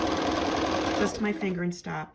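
A sewing machine stitches a Southwest blanket with a fast steady whirring hum, then stops as a person starts talking.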